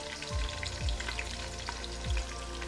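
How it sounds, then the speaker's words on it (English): Onions and chili frying in a pan with popped spices for a soya veg biryani, a steady loud sizzle throughout with a few low scraping stirs. "We'll add onions"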